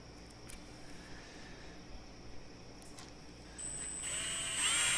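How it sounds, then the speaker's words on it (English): A power drill bores into a homemade planer board for big-fish trolling. After a few seconds of quiet, faint handling, a steady high-pitched whine starts up and grows louder and harsher toward the end. "So you see he's drilling."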